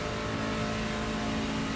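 Ferrari Challenge race car engine at full throttle on the Spa circuit in iRacing, a steady loud droning roar with harmonic whine, continuous and close, no talk.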